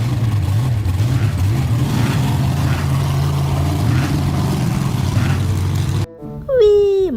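Blue toy monster truck engine sound: a steady mid-pitched motor drone running for about six seconds, then cutting off to a short electronic chirp, close and loud with no talk.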